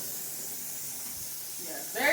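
Steady broadband hiss of steam venting from a pressure canner processing chicken broth, continuous and even throughout, with a brief brighter burst near the end.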